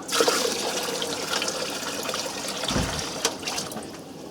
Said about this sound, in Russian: Я разбавляю обычной водопроводной водой.